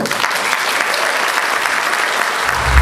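Loud, steady applause fills a room at the Scottish Police Muslim Association gala dinner, many hands clapping continuously before a low rumble enters at the end.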